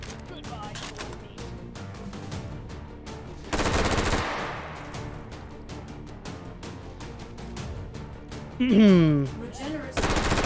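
A 5.56 rifle taking STANAG magazines fires in the VR shooter H3VR, with rapid bursts of shots spread through the clip, loud clustered blasts and someone talking briefly over it.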